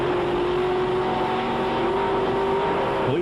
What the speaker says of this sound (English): Engine revs build.